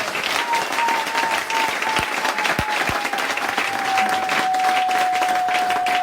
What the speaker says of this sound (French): Applaudissez très fort.